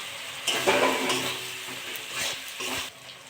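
Pointed gourd pieces dropped into a pan of cooked-down spiced masala and oil for chhana potol, bringing a few bursts of sizzle and stirring scrapes, with no voices.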